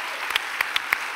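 Audience applause in a hall during a talk show recording: a short burst of clapping with a few sharper claps standing out, fairly close and moderately loud, with no talking.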